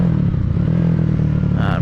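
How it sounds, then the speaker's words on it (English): A 1986 Honda GB250 Clubman motorcycle engine idling close by, a steady low throbbing rumble with no change in pace, and a brief rising whine at the very end. "You can see the bike running lovely."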